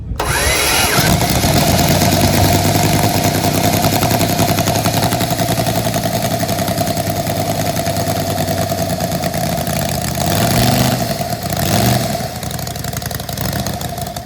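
A custom five-cylinder motorcycle fires up at a custom and classic bike show, then settles into a loud, steady mechanical idle with a couple of brief revs near the end, running close and continuously.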